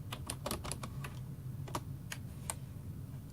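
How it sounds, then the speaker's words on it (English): Someone types a message on a computer keyboard, with quick, uneven bursts of soft key clicks over a low, steady background hum, fairly quiet and close. "I'm going to have to type into him."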